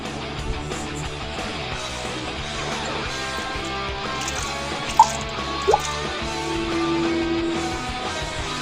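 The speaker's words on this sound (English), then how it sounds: "I'm gonna go ahead and grab some water, just dump it on there and cool it down a little bit" Water is dumped onto a hot moonshine still used for making rum, giving a steady wet splashing and dripping with a couple of sharp knocks, close by and alone over a dense background.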